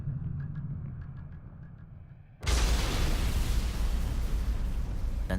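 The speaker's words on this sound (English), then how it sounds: "Then there's a shattering explosion." A blockhouse blows apart in a sudden, shattering explosion that follows a few quiet seconds, then leaves a loud, sustained roar and rumble.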